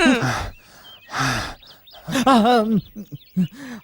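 A man pants heavily in a comedy scene, giving loud ragged breaths and gasping sighs in uneven bursts, close and alone with no talk over them.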